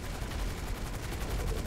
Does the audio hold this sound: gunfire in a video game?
yes